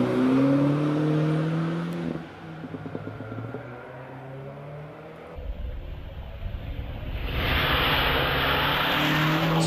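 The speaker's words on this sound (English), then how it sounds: "George Tower in the 2 litre Cooper S." A 2-litre Cooper S racing up the Prescott hill climb: the engine note rises and falls as it revs through gears, fading in the middle before it swells and passes close, loud toward the end.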